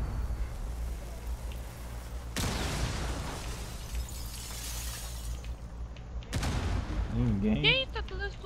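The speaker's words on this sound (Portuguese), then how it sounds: "Tá tudo explodindo." Blasts and shattering bursts in Rainbow Six Siege, with a Termite breach charge going off; loud broadband explosions at the start, midway and near the end over steady game ambience, with a voice talking.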